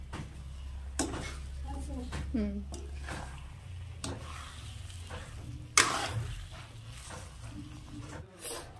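Spices fry in a pan for a homemade jujube pickle, giving a soft sizzle broken by scraping stirs and clanks of a utensil, with a voice speaking briefly near the start.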